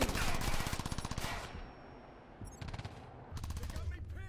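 Heavy automatic gunfire in the shooter game Ghost Recon Future Soldier: rapid, loud bursts rattle in quick succession, pause briefly, then resume just as intensely, with faint background voices.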